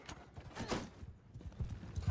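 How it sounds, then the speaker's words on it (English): Horse hooves in a video game gallop in a quick, uneven rhythm of thudding clip-clops, fairly soft and steady, with no talking. "Oh, there goes the horse."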